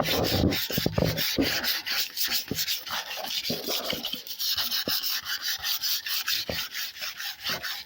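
Hand sanding of a black Peugeot 306 tailgate being prepared for paint: a steady run of rapid rasping back-and-forth strokes, close and fairly loud, continuing throughout without talk.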